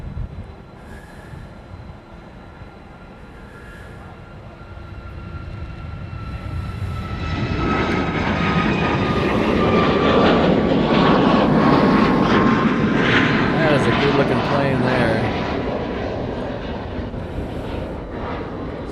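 A Southwest airliner in its Hawaii special livery roars past at Honolulu airport, its jet engine noise swelling from a distant whine to a loud broad rumble and then fading slowly.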